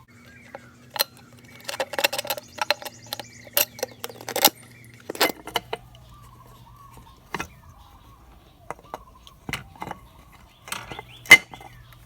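Bolts being removed from a KTM 250/300 two-stroke dirt bike's clutch cover, with scattered sharp metallic clinks and taps among quiet pauses and a low hum underneath.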